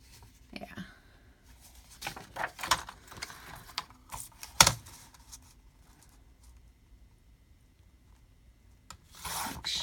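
Paper being trimmed for a junk journal, giving soft scattered rubbing and rasping cuts with brief louder snips, close and fairly quiet with pauses in between.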